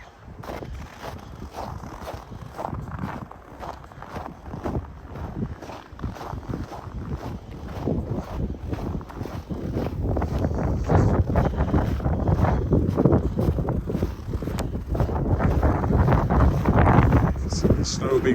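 Wind gusts roughly and steadily along Wascana Street in Regina on a snowy pre-dawn December walk, a broad rushing buffet against the microphone that grows louder toward the end.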